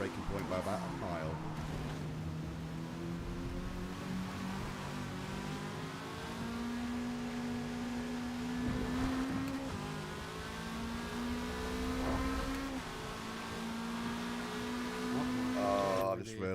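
A race car in Forza Motorsport laps an oval with a steady, droning engine whose pitch climbs slowly and dips through the turns. Voices talk over it at times.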